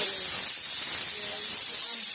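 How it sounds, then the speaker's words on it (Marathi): Steady loud hiss of a pressure cooker venting steam as rice finishes cooking in a home kitchen, continuous and close throughout with no pauses. "इकडं कुकरला भात तयार झालाय"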